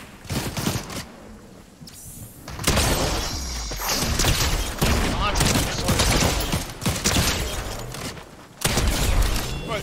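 Rapid bursts of gunfire in a trio cash cup video game shootout, loud and dense, with overlapping automatic fire and sharp impacts filling nearly the whole stretch with only brief lulls.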